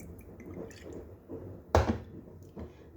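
Soy sauce poured onto raw spare ribs in a home kitchen, a single short liquid splash and trickle, close and moderately loud, with quiet background room noise before and after.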